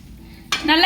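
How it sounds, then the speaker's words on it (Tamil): Chicken gravy with spices stirred in a pan, a sudden scrape of the spoon followed by hot sizzling, close and brief, lasting under half a second. "நல்லா கிளறி விட்டுக்கணும்."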